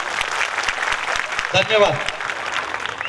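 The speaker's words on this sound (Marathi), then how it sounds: "आता विद्यार्थी थांबतील, पालक टाळ्या वाजवतील" Parents applauding at a school welcome-song function, a continuous crowd of dense clapping with a brief spoken word of thanks over it midway.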